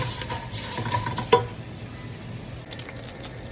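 Kofta balls frying in oil make a soft, steady sizzle, with one sharp clink of a utensil against the pan as they are stirred, close and brief with no talking.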